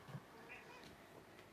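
A cat meows briefly near the start, a short close call over a cluttered room background, with faint household noise continuing afterward.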